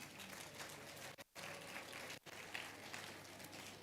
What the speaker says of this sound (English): we need to really give them a round of applause